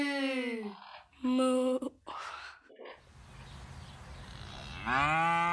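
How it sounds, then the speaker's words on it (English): Cattle moo in a children's animal-sounds lesson, with several drawn-out lowing calls separated by short pauses and a breathy gap, fairly clear and close, alone without talk. "What sound does a cow make?"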